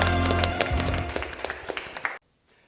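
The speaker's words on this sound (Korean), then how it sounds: "하나님께 영광의 박수 올려드리겠습니다." A children's worship congregation at Onnuri Church claps together in a busy, fairly loud burst with crisp individual hand strikes standing out, then it cuts off abruptly into quiet.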